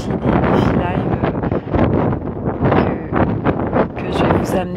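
Wind gusting at the sea at sunrise, loud buffeting rumble and roar on the microphone with someone speaking underneath throughout.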